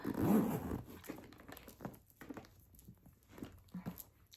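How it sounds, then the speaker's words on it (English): A zipper on a designer handbag being pulled closed in short scratchy strokes with brief pauses between them, close up and fairly quiet, with faint handling rustle. "Let's try to zip this up."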